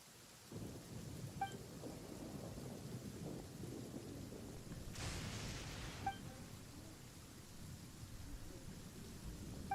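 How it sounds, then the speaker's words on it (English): Thunder rumbles low through steady rain in the video game Genshin Impact, a soft, continuous storm bed with a brief brighter crackle midway, faint and without talk. "Ah, so the thunder we heard was you!"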